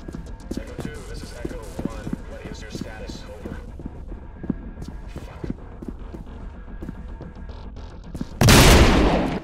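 Ambient gunfire in the shooter game Trepang2, with scattered sharp shots and thuds under steady talking, ending in a loud burst of noise.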